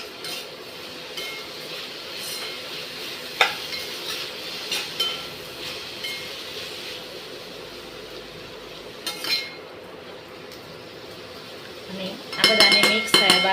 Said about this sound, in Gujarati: અને આ બધાને સારી રીતે મિક્સ કરી લઈશું.